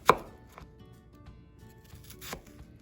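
Chef's knife chopping around a vegetable stem with the tip pointed down, giving a sharp near chop at the start and softer cuts later, with no talk.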